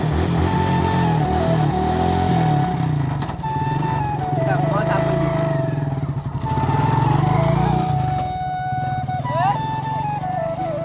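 A motorbike engine drones steadily and loudly up close while being ridden outdoors on a sunny day, with slight rises and dips in pitch. A voice talks over the engine.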